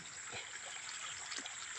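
Water trickles and splashes steadily onto the soil while tomato plants are watered in a garden, a continuous close, even flow.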